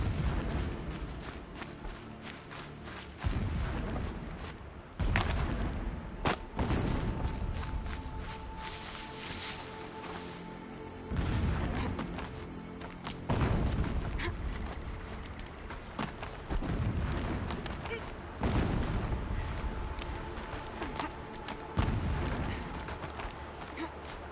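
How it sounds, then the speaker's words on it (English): Distant explosions in a PS4 video game, a series of low, rumbling booms spaced every few seconds across a continuous noisy ambient bed, faint and far off, with no talking. "Explosions in the distance."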